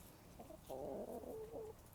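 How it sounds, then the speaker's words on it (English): Chickens and ducks clucking and calling in a garden, a short burst of close, busy clucks swelling through the middle of the clip over quiet outdoor background. "part of the chickens and ducks have figured out that I am down here, and they have all come to join me right where I want to film"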